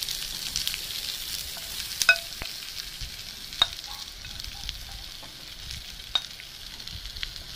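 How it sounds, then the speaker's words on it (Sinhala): Cucumber curry mixture frying in hot oil, a steady soft sizzle with occasional sharp clinks and scrapes of a spoon stirring the pan, close and fairly quiet. "මේක බ්‍රවුන් පාටට ආවහම අපි ඒකට අනාගත්ත පිපිඤ්ඤා මිශ්‍රණය දාගන්නවා"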